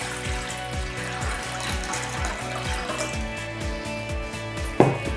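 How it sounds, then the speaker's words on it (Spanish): Cold water running from a tap into a bowl to soak gelatin sheets for a quince mousse, a steady close pour with a rhythmic low churning and a brief louder splash near the end. "Lo primero que haremos será hidratar las hojas de gelatina. Ponemos agua fría"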